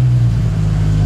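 A Koenigsegg Agera RS supercar engine at Silverstone gives a loud, close, steady droning roar with a strong low tone, heard alone in a very short burst.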